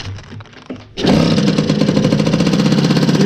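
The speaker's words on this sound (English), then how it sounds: "I'm going to add some fuel and fire it up." Yamaha FS1 moped engine catches and starts after some faint mechanical sounds, then runs loud and steady with a buzzing two-stroke idle, close by.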